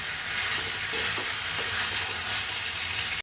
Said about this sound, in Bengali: সব সবজি দিয়ে একটু ভালো করে কষিয়ে নেব।